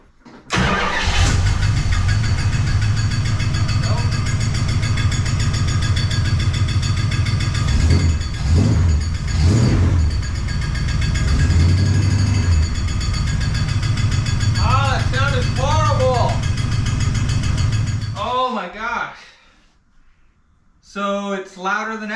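A 1969 Plymouth Fury III engine runs continuously with a mystery noise, with the belt-driven accessories removed except the harmonic balancer. The loud, steady running is heard up close, then it cuts off near the end amid brief talk.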